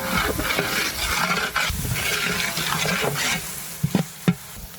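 Ginger, garlic and spices sizzle and fry in a pan for chicken biryani while a utensil stirs and scrapes steadily, with a few sharp clanks near the end.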